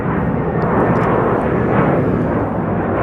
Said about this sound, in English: this is JetBlue Flight 688 on its way to Boston on an Airbus A321